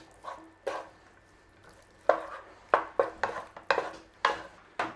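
Chicken tikka chaat seasoned with chunky chaat masala and ground cumin being stirred, a run of close scraping, clinking strokes that start sparse and then come quick and uneven, with no talking.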